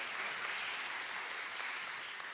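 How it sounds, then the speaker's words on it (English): A conference audience claps in steady, sustained applause that fills the room at an even level from start to finish, with no voices rising above it. "I was about to say another round of applause."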